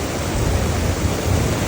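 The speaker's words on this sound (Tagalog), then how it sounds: "Kasi maaga pa yan, mga 2 hours pa lang umuulan yan." Heavy rain pouring during Typhoon Crising in the Philippines, about two hours into the downpour: a loud, steady roar of broadband rain noise.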